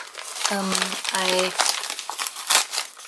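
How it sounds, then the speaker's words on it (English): Bubble envelope plastic being handled and crinkled up close, a steady crackling rustle throughout, with a voice speaking over part of it. "I took this bubble plastic off"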